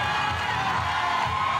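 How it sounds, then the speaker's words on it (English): Crowd noise at a lead climbing World Cup final in Imst, a steady mass of cheering and shouting voices throughout, fairly loud and dense without clear breaks. "Crowd are getting into it."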